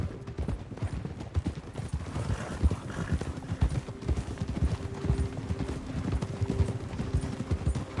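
A horse's hooves clip-clop in a steady, continuous rhythm while it is ridden, close and fairly loud, carrying on throughout with no talk over it.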